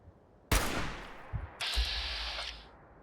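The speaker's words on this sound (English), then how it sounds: "That was a 2x damage shot" A single sharp gunshot in a survival video game, a loud broadband burst followed by a brief thump and a second shorter hit with a hissing tail, fairly close with no talk.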